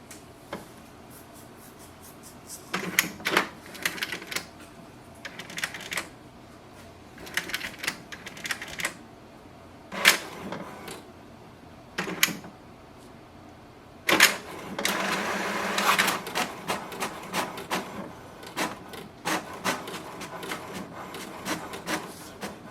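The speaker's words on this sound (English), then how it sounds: "So printer will print the print quality diagnostic report" An HP DeskJet 2955 inkjet printer prints a print quality diagnostic report after printhead cleaning for clogged heads, giving repeated bursts of mechanical whirring and clattering carriage movement separated by short quiet pauses, close and fairly loud.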